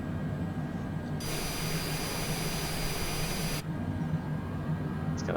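Aircraft jet engine spooling up during pushback before a flight from Galveston, Texas; a steady loud broadband roar with a bright high whine that swells in for a couple of seconds then drops back to a lower rumble.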